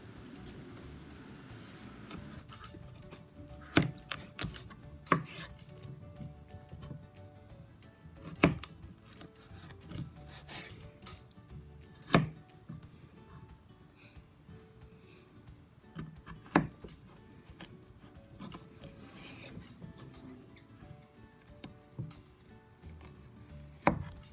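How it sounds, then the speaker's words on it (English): A Case SodBuster knife slices a carrot into long thin strips on a camp kitchen board, giving sharp intermittent knocks and chops spaced a few seconds apart over soft scraping, close and fairly quiet. "when I try to slice this carrot into long, thin slices, it gets stuck again"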